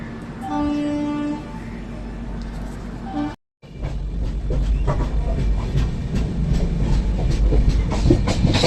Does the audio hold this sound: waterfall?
no